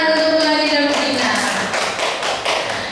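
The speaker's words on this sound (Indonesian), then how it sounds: "Tepuk tangan untuk Bu Hani dan Bu Dina" An indoor audience claps together in a steady, dense patter of many hands, loud and continuous, after a brief tone fades out at the start.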